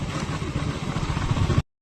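A motorcycle engine runs with a rough, low chugging rumble close by, steady for a moment before cutting off abruptly.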